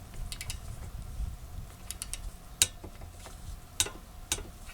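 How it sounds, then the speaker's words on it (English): Torque wrench tightening the outer tie rod end nut on a 2001 Toyota Avalon, heard as a few sparse, sharp metallic clicks and ticks close up over low background rumble, with no talking. "we want to torque this down to 36 foot-pounds"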